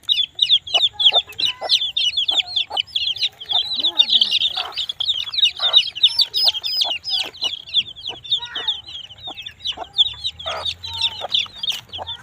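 Dense, continuous high-pitched cheeping from a group of farm-hatched Fayoumi chicken chicks, close by, with many overlapping peeps in quick irregular bursts during vaccination.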